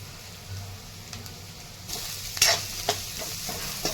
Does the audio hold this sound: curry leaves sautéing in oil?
yes